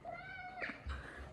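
A cat meows close by, a short rising call followed by a second brief meow, fairly quiet in a home setting under faint background noise.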